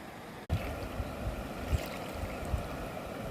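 A small, clear stream flowing through the hills near a tribal village makes a faint, steady rushing wash with a few soft splashes and no voices.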